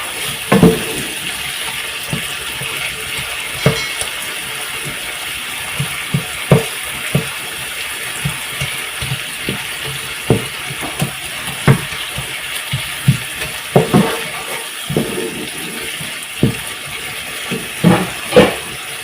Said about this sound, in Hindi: हम इसे इस तरह चॉप कर लेंगे, ऐसे इसे मिक्स कर देंगे